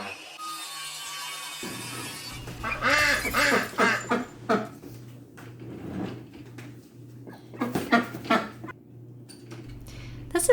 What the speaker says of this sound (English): This is my first time taking a duck to the vet